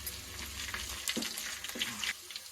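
Onions with curry leaves and chillies fry in a pan for a village-style crab soup, making a soft continuous sizzle with a couple of brief stirring scrapes, fairly quiet and close.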